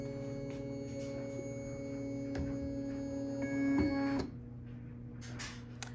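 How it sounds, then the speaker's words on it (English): A Bernina embroidery machine's arm moves into position with a steady motorized whir and hum that swells briefly, then cuts off with a faint click; no voices. "that's going to move my embroidery arm into position"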